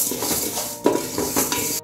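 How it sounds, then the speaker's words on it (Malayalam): Lentils and black peppercorns dry-roasting in a pan over low heat, with a close scraping stir and light rattling of grains against metal, one sharper clink midway, then a sudden cutoff. "ഇനി അടുത്ത് നമ്മൾ കുരുമുളക് എല്ലാം കൂടി ഒന്നിച്ച് വറക്കാം."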